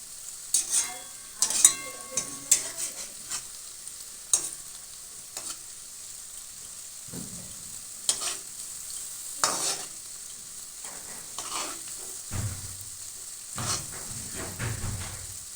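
Spiced pitha rice cakes deep-fry in oil over low gas, a soft continuous bubbling sizzle punctuated by occasional spatula scrapes and clinks.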